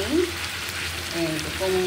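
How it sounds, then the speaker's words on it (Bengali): Pieces of fried hilsa fish go into a pan and sizzle with a fairly quiet, steady hiss, with a few faint tonal sounds in the background. "এই যে এখন আমি দিয়ে দিচ্ছি ইলিশ মাছ ভাজাগুলো।"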